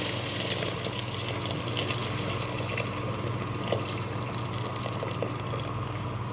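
Water poured into a cooking pot of spiced tomato and meat stew, a steady continuous gush and splash at moderate loudness running unbroken throughout, with no talking.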